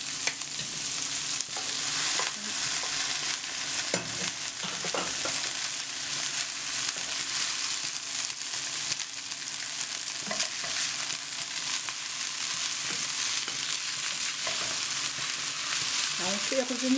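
Udon noodles with shrimp and garlic sauté over low heat in a pan, making a steady hissing sizzle that runs the whole time, with a few soft utensil clicks and stirring sounds mixed in.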